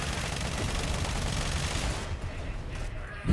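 A rapid-fire gun in the video game SULFUR shoots a dense, continuous burst of overlapping shots at high volume for about two seconds, then trails off into quieter echoes.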